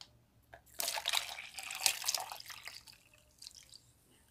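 Strained cinnamon tea is poured into a cup, giving a close, splashy trickle of liquid that starts suddenly, runs for about two seconds and then thins into a few faint drips.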